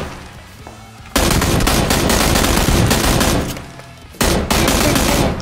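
Gunfire in the battle royale game PUBG: two long, loud bursts of rapid automatic fire separated by a short pause, with quieter shots before the first burst.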